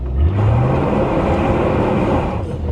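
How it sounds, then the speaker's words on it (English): A 1983 Mercury Cougar revs hard and spins its tires on gravel, a loud, close engine note climbing steadily for a few seconds under a rough crunching wash, with no talk. "I'm gonna hit the gas real quick, you know, stir up a little bit of gravel"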